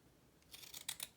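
Scissors snip through patterned paper while faux postage stamps are trimmed, several crisp, close cutting snips in an uneven rhythm, growing louder toward the end, with no talking.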